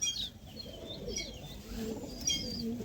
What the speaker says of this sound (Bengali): এটা একটা দাদা পালসার পায়রা